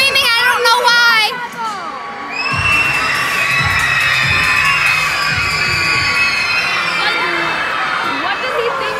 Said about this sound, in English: Everybody's screaming, I don't know why.